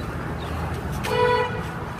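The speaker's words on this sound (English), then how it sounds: "I don't know what the hell he's honking at" A car horn honks briefly on a town street beside an old theater building in Wyoming, one short tonal toot over steady traffic rumble, heard from a moderate distance.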